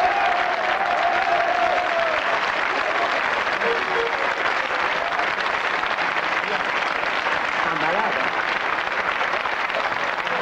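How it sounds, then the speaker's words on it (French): Studio audience applause on a 1993 French TV panel game show, a steady, dense wash of clapping that fills the whole stretch at an even level, with faint voices blended underneath. "Il s'applaudit lui-même."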